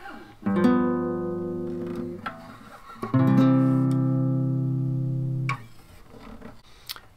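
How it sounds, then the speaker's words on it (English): Two sustained guitar chords, a dominant seventh resolving to the tonic, sound one after the other, the second ringing longer before being cut off, followed by faint handling noise. "So we have a dominant seventh chord resolving to a tonic"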